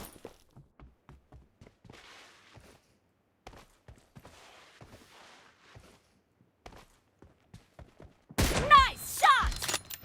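Gunfire erupts near the end in PUBG Mobile, a loud burst of shots after a long stretch of quiet footsteps and soft thuds.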